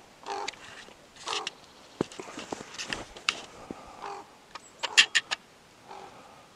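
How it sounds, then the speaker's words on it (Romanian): A raven calls in snowy countryside with a series of harsh croaking caws at irregular intervals, fairly near, with quiet gaps between calls. "Asta e un corb."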